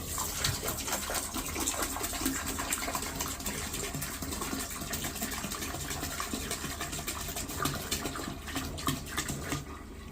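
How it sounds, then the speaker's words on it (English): Liquid antifreeze pours steadily into an emptied household toilet, producing a continuous splashing, gurgling rush for the whole stretch. "I'm gonna fill these up with the antifreeze."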